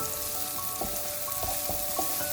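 Onions and vegetables sizzle steadily in a hot pan for smoky burnt garlic noodles, with a constant close hiss broken by a few soft clicks and scrapes of stirring.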